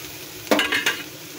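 Taro stems being stir-fried in a pan on a gas stove, with a soft background sizzle broken by a few quick scraping strokes of a spatula against the pan, close and clear, with no talking.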